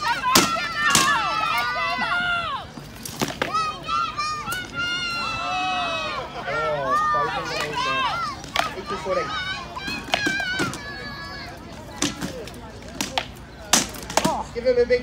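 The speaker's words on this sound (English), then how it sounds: "Give them a big cheer, guys." Spectators cheering and shouting for armored fighters and squires on a grassy field at an SCA medieval combat event, with many overlapping voices whooping in bursts alongside a nearby announcer's talk.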